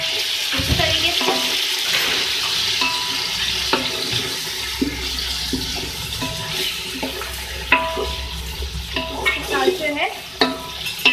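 Half a kilo of chicken is stirred into browned onions in a pot for chicken pulao, with sizzling, frying and scraping of a spoon against the pot, close and steady, while someone speaks briefly.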